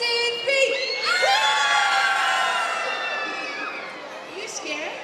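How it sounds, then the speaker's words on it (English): A group of children scream together at an English drama storytelling event, a loud, sustained burst of high-pitched shrieking and cheering that fills the whole moment. "Should we scream? Everybody scream!"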